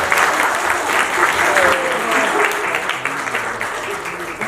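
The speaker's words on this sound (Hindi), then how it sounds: "जोरदार तालियां हो जाए" An audience at a stage event bursts into sustained applause for a music director, dense steady clapping from a large crowd throughout, with a voice faintly under it.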